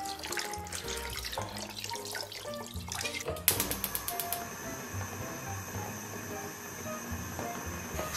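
Tap water with cooking wine heats in a pot to blanch oxtail. A faint simmer turns into a rapid train of bubbling pops and a hissing rumble as it nears a boil.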